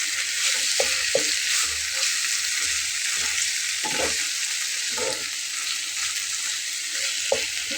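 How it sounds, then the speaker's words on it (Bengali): Radish greens frying in a pan give a constant hissing sizzle, broken by soft spatula scrapes and stirring knocks every second or so, close and fairly loud. "এটা খুব ভালো করে ভাজা করে নিতে হবে।"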